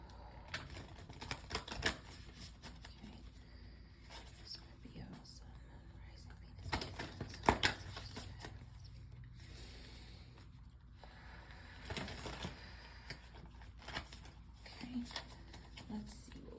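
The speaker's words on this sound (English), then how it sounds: "I'm going to go ahead and shuffle the first deck of cards, which is the Black Moon Astrology" A Black Moon Astrology tarot deck is shuffled up close, with soft repeated riffles, slaps and card rustles in irregular bursts, while a quiet whispering voice talks intermittently.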